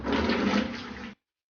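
Aquarium water siphoned into a bucket for a blue spot jawfish, a steady close rushing pour of water that runs for about a second and then stops abruptly into silence.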